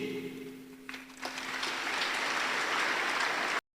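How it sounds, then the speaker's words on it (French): Applause from the congregation of faithful at a Kimbanguist gathering in the holy city of Nkamba, a broad, steady crowd clapping that swells after a second and holds at a dense, even level until it cuts off abruptly. "Son intervention a été chaleureusement applaudie par les fidèles présents"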